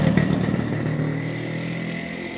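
A motorcycle passes close by on a street near a harbour, its mid-pitched engine droning steadily and fading slightly over about two seconds, with no talk.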